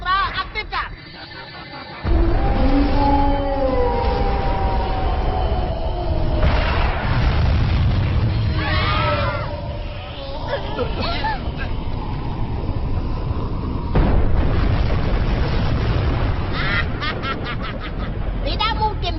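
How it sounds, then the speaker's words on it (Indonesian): An ultra wave cannon firing in an animated Doraemon film with Indonesian dubbing, a loud sustained blast with deep rumbling and a swelling whoosh after a short quieter start, broken by whistling tones and crackling bursts. "Tembakan gelombang ultra aktifkan."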